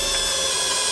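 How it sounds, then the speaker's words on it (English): A short burst of a drill grinding steadily through the metal of a car trunk, loud and close, with no pauses. "drilling some holes to mount up his new booster pump"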